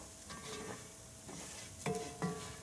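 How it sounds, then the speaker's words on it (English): Paella is stirred in a pan on a BBQ, quiet scraping strokes over a faint steady sizzle, with two clearer clinks of the utensil against the pan toward the end. "we're just stirring that up just a little bit more"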